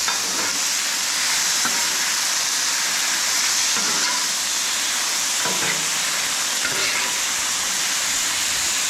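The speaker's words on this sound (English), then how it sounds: "Listen to that sizzle." Vegetables sizzle loudly in hot oil in a pan, a constant close hiss with occasional scraping stir strokes and no talk.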